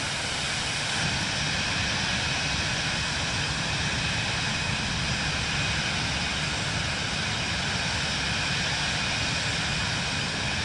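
An airliner roars low past a strip in the Microsoft Flight Simulator 2024 video game, a loud, dense, steady jet engine rumble and hiss that holds throughout with no breaks.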